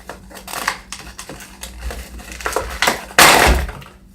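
During an unboxing, plastic packaging is pulled and peeled off in a run of close crinkling, crackling and tearing handling noises, ending with one louder rustle.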